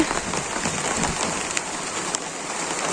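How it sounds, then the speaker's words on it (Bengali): Rain pours steadily onto surfaces nearby, a dense continuous hiss with scattered louder drop hits and no speech. "তো না বৃষ্টি শুরু হয়ে গেছে"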